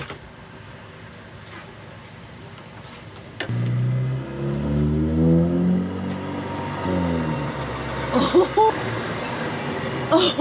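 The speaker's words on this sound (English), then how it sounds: "we just had a semi-truck driver turn right in front of us" A semi-truck passes close in front of a car in a Walmart parking lot, its heavy engine rumble swelling mid-clip with shifting tones before fading, while faint sounds continue.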